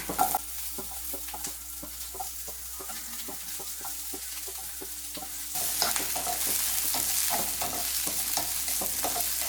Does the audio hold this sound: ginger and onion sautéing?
yes